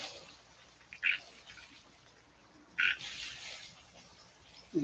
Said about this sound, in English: Hear the toad?